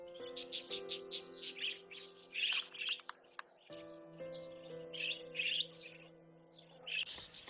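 A flock of wild budgerigars settled on the bare upper limbs of a tree in Australia chirps and warbles continuously, with many overlapping bright calls and trilling chatter at moderate distance over a soft steady background tone.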